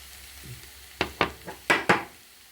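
Eggs with peppers and other vegetables cook in a pan, a quiet background sizzle punctuated by five sharp close utensil clacks and scrapes against the pan.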